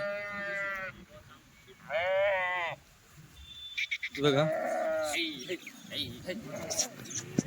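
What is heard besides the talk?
sheep bleating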